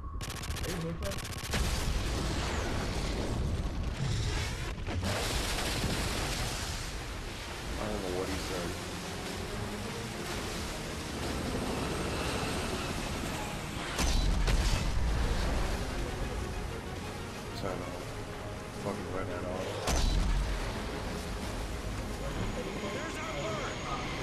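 Mines being shot and exploding during a Modern Warfare 3 campaign battle, with dense rattling gunfire, heavy booms and aircraft rumble running throughout, with voices talking over the combat.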